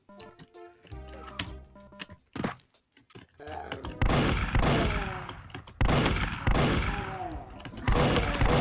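In a Doom randomizer game, a super shotgun enemy fires heavy blasts amid dense combat noise, several loud booming shots in the second half mixed with game effects, while a voice talks over the start.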